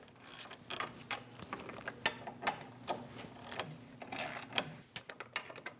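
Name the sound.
removing caliper bracket bolts with a 21mm socket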